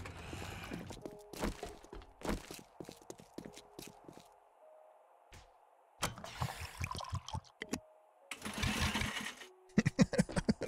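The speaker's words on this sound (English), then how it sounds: "It's so funny that it uses the auger. Sound effect." Mechanical auger whir in 7 Days to Die used as a crafting or storage sound, with repeated short bursts of grinding, rattling noise separated by clicks and quiet gaps, fairly close and alone.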